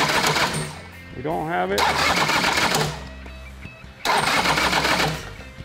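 A motorcycle starter cranks the engine in repeated whirring bursts, each stretch grinding steadily for about a second before cutting off, with someone speaking between and over the attempts.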